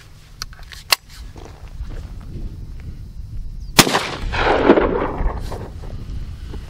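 Shotgun firing an Aguila mini shotshell, with one loud close report midway, a sharper earlier crack, and outdoor rustle and movement around them; no talking.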